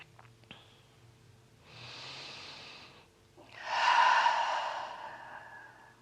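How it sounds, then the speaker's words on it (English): Deep breaths during a yoga session: a soft inhale followed by a longer, louder, airy exhale, heard close and alone in a quiet room. "Take 2 deep breaths."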